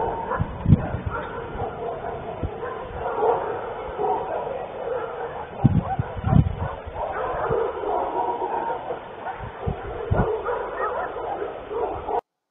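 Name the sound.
dogs barking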